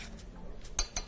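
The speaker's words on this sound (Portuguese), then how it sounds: "Dá uma mexida pra não transbordar." A spoon clinks twice against a small pan of simmering cinnamon fruit syrup while it is being stirred, two brief bright metallic taps standing out over low kitchen background noise.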